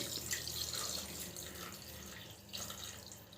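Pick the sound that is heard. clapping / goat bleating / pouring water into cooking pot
pouring water into cooking pot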